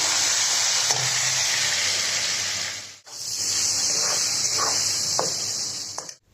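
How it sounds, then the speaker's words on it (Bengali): Black cumin, chopped onion and green chilli fry in hot oil, a loud, steady close hiss broken by a brief pause, then resuming with a few stirring clicks before it cuts off. "কালো জিরে পেঁয়াজ কুচি কাঁচা লঙ্কা ছেড়ে এটা আমি একটু ভেজে নেব"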